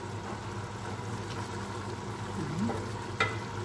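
Meat sizzling and frying in a pan for a seffa dish, a steady close crackle with light stirring and one sharp clink near the end.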